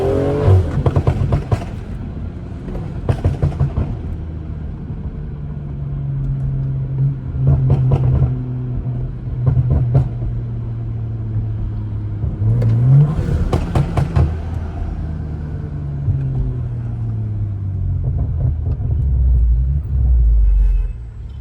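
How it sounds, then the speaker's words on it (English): A 500 hp turbocharged BMW accelerates on a night drive, its engine rumbling and rising through repeated revving pulls, with a deep throaty drone and brief surges heard from inside the car. "Just so y'all can hear the turbos"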